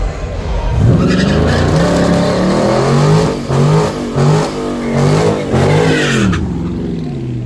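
Two Dodge Chargers, an SRT and an RT, drag race at Yello Belly Dragstrip. Loud engines rev and climb in pitch with tire squeal, a sustained close roar that surges and dips before easing off.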